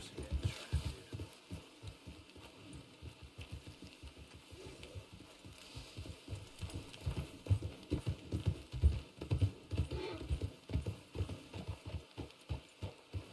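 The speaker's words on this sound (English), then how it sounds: "There's a horse here stranded." Steady clip-clop of a wagon horse's hooves walking at an even pace in Red Dead Redemption 2, close and fairly loud, with a low rumbling background behind it.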